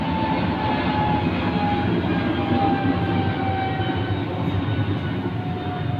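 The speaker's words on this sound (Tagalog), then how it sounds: "Sorry guys ha, kasi may dumaan na aeroplano." An airplane passes overhead as a steady, broad, rushing roar that holds at a constant level for the whole stretch, with no voices over it.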